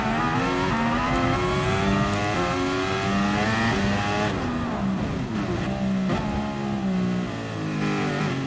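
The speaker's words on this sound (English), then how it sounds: "Just listen to the downshifts." A GT Sport race car engine screams at high revs and then blips down through a series of downshifts, loud and up close, with harmonic engine tones dropping in steps and a faint tire squeal.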